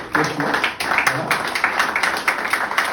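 An audience claps steadily through a debate event in Paris supporting Congolese rumba's UNESCO bid, with a voice speaking briefly over the sustained applause.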